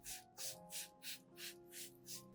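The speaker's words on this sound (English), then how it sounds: "In addition to orchids, I also spray other plants in the garden." A hand sprayer mists rice solution onto garden plants such as orchids, rosemary, anthurium and peace lily, giving seven quick, evenly spaced hissing pumps, close and fairly quiet.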